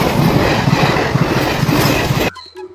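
A train rumbles loudly past a railway level crossing with steady clickety-clack wheel noise, close and continuous, then cuts off abruptly near the end, leaving quieter background sound.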